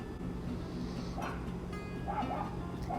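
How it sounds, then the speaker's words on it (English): A small black dog barks and yips at another dog, a few short sharp calls over a constant low background hum, with a faint voice underneath. "A dog is barking at another dog right now"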